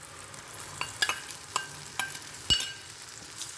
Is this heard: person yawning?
no